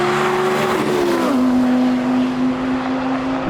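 A BMW M3 and an Audi R8 GT drag racing side by side, engines screaming under hard acceleration; a loud, close high-revving howl drops sharply in pitch at an upshift, then holds a strong steady tone.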